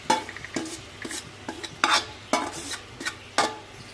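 Chicken pieces cooking in a small amount of oil in a pan for shawarma, soft sizzling under a series of sharp utensil scrapes and stirring clatters every half second or so, close and fairly loud.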